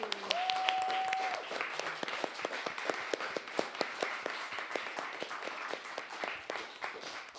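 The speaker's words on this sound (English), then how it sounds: "Let's give them all, amazing people, a massive round of applause, and thank you." A theatre audience applauds the technical crew after a live music show, sustained crowd clapping with crisp individual claps poking through, moderately distant and gradually easing off; a brief tonal whistle-like note sounds near the start.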